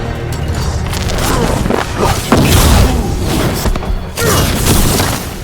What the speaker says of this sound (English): They've got mortars!